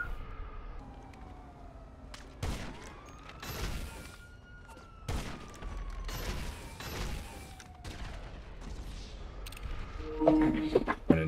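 Scattered gunshots in a video game crack out at intervals over a wailing siren-like tone and background noise, moderately loud, with a brief clattering burst near the end.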